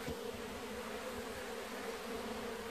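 Bees buzz steadily and densely at a natural hive as it is being taken out, a close, continuous swarm drone with no pauses and no voices.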